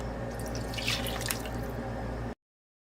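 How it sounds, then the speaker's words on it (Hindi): A short trickle of water poured into a chicken biryani marinade, a soft, continuous splashing and dripping lasting about two seconds before it cuts off to silence. "थोड़ा सा पानी इसके अंदर ऐड कर दें,"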